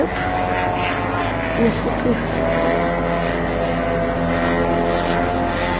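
An attack drone flies over Moscow, its propeller engine giving a loud, steady droning hum that stays close and unbroken throughout.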